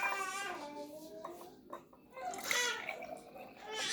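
Expressed breastmilk pours into a measuring container for 100 milliliters, a soft close trickle and splash that comes in short bursts, with brief pauses between pours.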